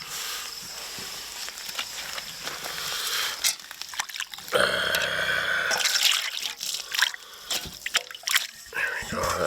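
Hot water runs from a tap in a cabin setting, a steady splashing flow that swells in the middle and keeps going, with a voice talking over parts of it.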